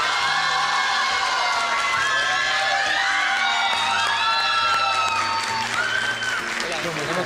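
Studio audience of a Spanish-language TV talk show applauding and cheering as a singer arrives, a dense, steady wash of clapping with whoops, shouts and excited voices on top throughout.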